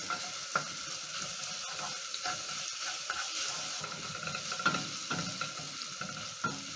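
Garlic cloves added to browning onions sizzle steadily in a pan, with occasional scraping stir strokes and clinks, close and moderately quiet with no voices.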